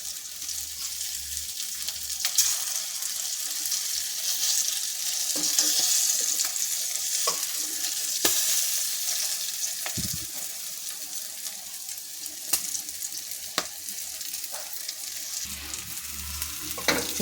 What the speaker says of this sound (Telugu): కొద్ది కొద్దిగా వేసుకొని మనం వేపుకోవాలి